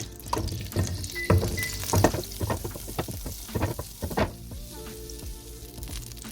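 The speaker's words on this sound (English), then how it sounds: "we're gonna go in with another tablespoon of vegetable oil, and also we're gonna add some butter and let it melt" Butter melting into hot vegetable oil in a pan for French toast, a close crackling sizzle with scattered pops and a few utensil taps, easing to a gentler hiss toward the end, no voices.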